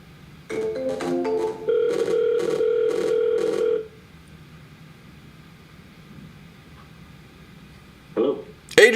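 A phone call is dialed with a quick burst of touch-tone beeps, then a steady tone holds for a few seconds. After a quiet stretch, short bursts of voices come in near the end.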